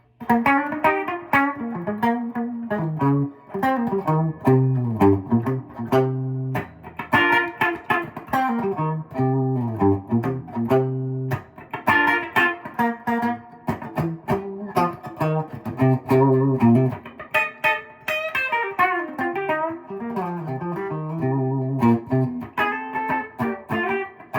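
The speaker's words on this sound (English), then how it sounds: "Bridge pickup, got some twang to it." A 2022 Gibson Custom Shop ES-335 '59 Reissue electric guitar on the bridge pickup, with a bright, twangy tone, played continuously, mixing chords and single-note runs with a steady, lively rhythm and no talking.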